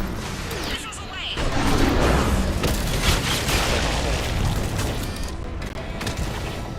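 Missiles launch and detonate in Mass Effect 3 combat on Thessia, a dense, sustained rumble of booms and blasts under a speaking voice.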